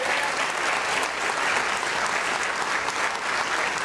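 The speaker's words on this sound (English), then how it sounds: "Can we give them a round of applause?" A debate audience applauds the congressional candidates on stage, sustained dense clapping from a crowd, loud and even from start to finish.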